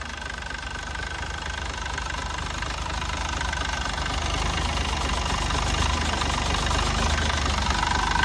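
A Yuchai 260 diesel engine runs close by at a steady, smooth hum with a low rumbling throb, holding constant and growing slightly louder throughout.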